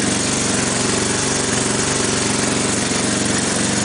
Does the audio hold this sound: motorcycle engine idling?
yes